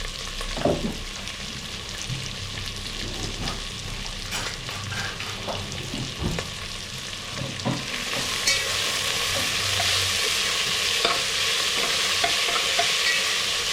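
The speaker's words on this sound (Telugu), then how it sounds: "ఇలా బ్రౌన్ కలర్ వచ్చేదాకా ఆనియన్స్ వేయించుకోండి." Onions fry in a pan until brown for chicken biryani, a steady close sizzle broken by scraping stirs and knocks, the hiss growing louder and denser in the second half.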